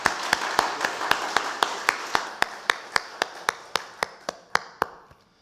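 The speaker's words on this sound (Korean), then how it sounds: "하나님께 영광의 박수 올려드립시다" A church congregation claps together during a Sunday worship service, a steady unison rhythm of sharp claps about five per second, fairly close and clear, continuing for several seconds before tapering off.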